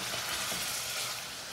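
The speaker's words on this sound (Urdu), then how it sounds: "اچھی طرح بھون لیں آپ" Chicken pulao mixture with ginger and garlic paste sizzling and frying in a pan, a steady, close hiss with no talking.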